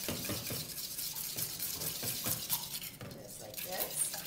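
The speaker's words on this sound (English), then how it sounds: "So we're just going to whisk this together." A whisk beats orange ricotta pancake batter with orange zest in a bowl, producing rapid, rhythmic metallic clinks and scrapes against the bowl, close and moderately loud.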